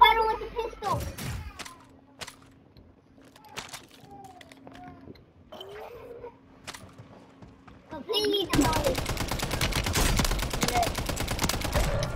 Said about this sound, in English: fight him with a pistol